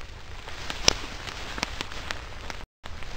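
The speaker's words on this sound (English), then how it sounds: "it's starting to rain, so it's time for the old poncho" Rain starts to fall outdoors in the woods of Indiana during mushroom hunting, with scattered drops tapping nearby surfaces over a steady soft patter and no one speaking.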